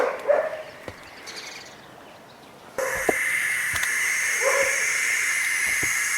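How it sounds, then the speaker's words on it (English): An owl in an attic hisses, a steady, breathy hiss starting abruptly partway through and continuing loud and unbroken, with a few faint knocks and brief calls underneath. "Sounds like hissing to me."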